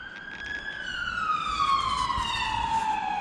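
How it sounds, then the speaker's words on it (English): An ambulance siren wails, gliding slowly downward in pitch as it passes, loud and clear over low road rumble. "There goes the ambulance."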